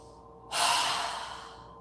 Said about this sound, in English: we're going to take 3 deep breaths, inhaling through our nose and exhaling with a strong breath through our mouth